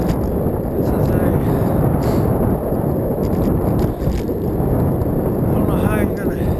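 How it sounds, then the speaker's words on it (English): Strong outdoor wind buffeting the microphone while riding the Greenline rail trail, a loud continuous low roar and rumble throughout, with a voice partly heard under it. "There's a lot of wind today."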